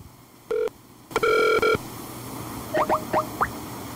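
Telephone call tones: a short beep, then a longer steady tone, followed by several quick sliding chirps like dialing or line signals, close and clear with no talk.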